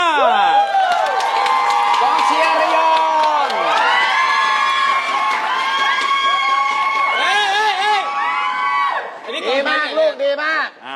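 Supporters at a Thai TV game show cheer loudly and continuously, with shouts, whoops and children's yells layered over a dense crowd roar that breaks up near the end.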